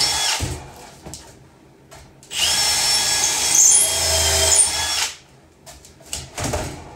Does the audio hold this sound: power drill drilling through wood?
yes